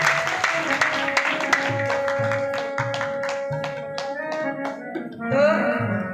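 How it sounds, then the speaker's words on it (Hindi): Audience clapping at a Shiv Mahapuran devotional gathering, a run of rhythmic claps over sustained music tones, fairly loud and building into a fuller burst near the end. "इनके लिए ताली बजाइए"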